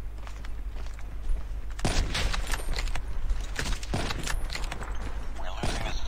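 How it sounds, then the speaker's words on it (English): Three heavy shots from a Locus sniper rifle fired from the hip in a 1v1 shooter video game tournament match, spaced about two seconds apart over a steady background hum. "Look, the no scope and the hip fire on the Locust is."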